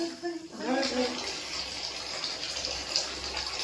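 Water runs steadily from a tap for a child's bath, a close, continuous gushing rush with a voice speaking briefly over the opening half second.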